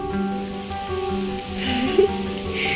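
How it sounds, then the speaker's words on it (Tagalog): Heavy rain falling near a hut in a peanut field, a steady wash of close patter under sustained tonal hum, with a brief brighter surge of drops toward the end. "lumalakas yung ulan"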